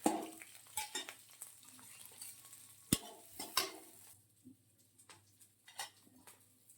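Green chillies and paanch phoron spices fry in a little oil in a kadai, a faint low sizzle broken by sharp metal spatula scrapes and clinks against the pan.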